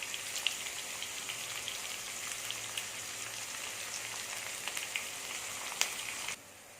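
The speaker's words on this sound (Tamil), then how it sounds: "இது வதங்கி இருக்கட்டும்" Green chilies and onions sizzle gently while sautéing in a pan, a soft, steady crackle like light rain with a few sharper pops, at a moderate distance before cutting off near the end.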